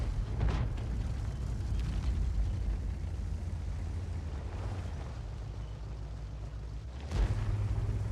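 A tank cannon fires and strikes an E3 in a tier 10 World of Tanks battle, heavy rumbling engine and battle noise throughout with a deep booming blast near the start and another near the end.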